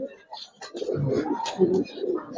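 Giribaz pigeons coo inside a breeding loft, soft throaty calls rolling one after another at close range with faint chirps and rustling around them.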